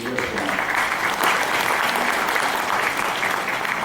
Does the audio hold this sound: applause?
yes